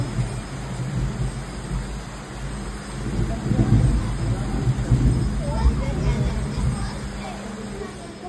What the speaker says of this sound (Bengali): গুরুম গুরুম করে আওয়াজ হচ্ছে আকাশে